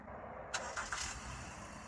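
A Honda Pilot fitted with a Viper remote starter starts up by itself: a short, quiet cranking burst followed by a couple of catches, then it settles into a low, steady idle heard from a distance.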